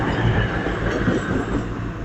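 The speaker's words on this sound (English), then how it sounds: "Due in now as a cross country service off to Edinburgh. with 220004." A CrossCountry Class 220 Voyager, unit 220004, pulling into Durham station on an Edinburgh service, a steady rolling rumble of wheels on rail with faint clatter, close and continuous.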